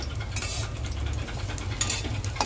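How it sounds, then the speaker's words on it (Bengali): Food fries in a pan while being stirred, with a steady sizzle and light scraping over a constant low hum. The sound is close, and no one speaks. "ভাজা হয়ে গেছে, নামিয়ে দেবো"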